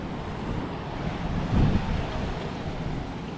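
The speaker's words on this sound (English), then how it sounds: "don't go that way because that water will wash over in a good wave" Ocean waves washing over a rocky Puerto Rico shoreline, a broad steady rushing wash with one fuller surge in the middle, heavily buffeted by wind noise and no voices.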